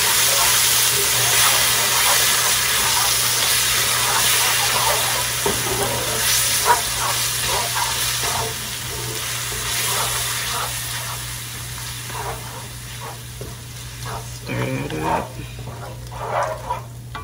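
Canned chopped tomatoes hit a hot pan while butter chicken is cooked at home, a loud steady sizzle and hiss with some stirring scrapes and bubbling running on throughout.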